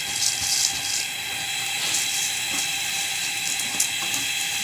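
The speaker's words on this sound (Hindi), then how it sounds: "अब हम चावल डालते हैं" Running, splashing water fills the whole stretch as rice goes into boiling water in a pot while making mixed vegetable pulao, a steady broadband wash with no talk.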